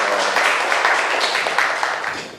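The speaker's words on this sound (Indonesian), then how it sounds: "tepuk tangan untuk kalian semua ya" Classroom applause for students after a lesson, a short burst of many hands clapping together at moderate volume.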